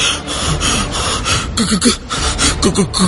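A man pants hard after coming out of water, heavy rapid breaths in a close, rhythmic series of gasps and snorting exhales with no talk.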